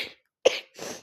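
Three close coughs from one person in quick succession, each a short harsh burst separated by brief silences.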